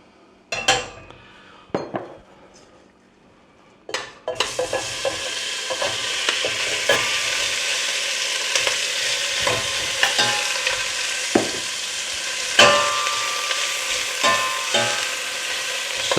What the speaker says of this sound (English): then you can start your meat searing